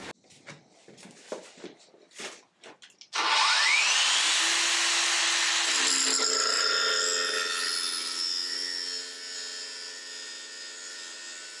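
Angle grinder slicing through a metal window-hinge part at close range, a loud sustained whine that starts abruptly after a few short knocks and holds steady, easing slightly toward the end.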